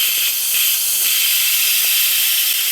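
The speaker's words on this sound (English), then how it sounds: "we're gonna have to release our steam in order to open our Instant Pot" Steam vents from an Instant Pot pressure cooker, making a loud, continuous, even hiss that runs unbroken from start to finish.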